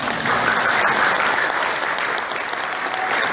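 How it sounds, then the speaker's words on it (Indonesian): Loud, sustained applause from an audience for Ustaz Bachtiar Nasir at an FSPMI leadership meeting, a dense even clapping filling the room without pause. "Kita beri aplaus buat Ustaz"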